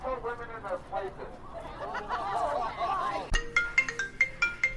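An incoming phone call, a bright electronic ringtone melody of repeated tonal notes starting after a sharp click, following a stretch of someone talking.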